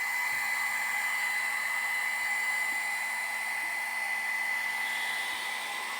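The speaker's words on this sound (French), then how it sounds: "Les ventilos." Cooling fans spin in a newly assembled machine, producing a steady, even whir with a constant tone that holds unchanged throughout, close and alone with no talk.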